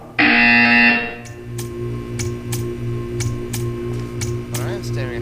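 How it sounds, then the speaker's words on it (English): A loud, harsh electronic buzzer in the Portal 2 video game blares for about a second, then gives way to a steady rhythmic ticking over a low hum. "You will hear a buzzer. When you hear the buzzer, stare at the art."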